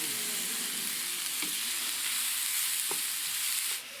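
Fresno and frying peppers with leeks wilting in sausage drippings sizzle steadily for Italian-style fried rice, a broad, even hiss with a couple of soft stirring taps, close by and without talk.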